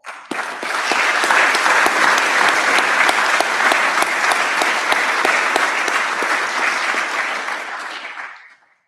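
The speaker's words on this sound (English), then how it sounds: "That deserves a round of applause." Loud, dense applause from a graduation audience at a college orientation workshop ceremony, swelling quickly to a sustained roar of clapping for about eight seconds before cutting off abruptly.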